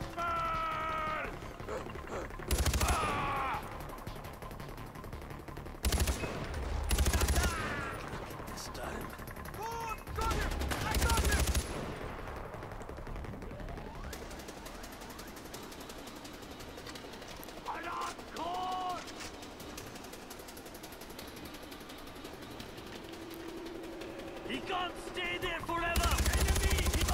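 Gunfire in the video game Far Cry 4 comes as scattered bursts and single sharp shots across a busy, noisy game soundscape, with a few louder cracks standing out near the start and the end.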